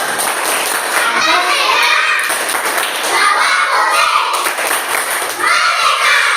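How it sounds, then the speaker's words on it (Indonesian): Schoolchildren in an Indonesian classroom perform a rhythmic flag clap chant, dense clapping and shouted chanting voices filling the room loudly and continuously, with a teacher's voice mixed in. "mari sama-sama Bapak kasih dulu yel-yel berupa tepuk bendera"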